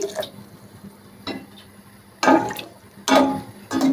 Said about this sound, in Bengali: আমি একটু সেদ্ধ হওয়ার জন্য একটু জল দিচ্ছি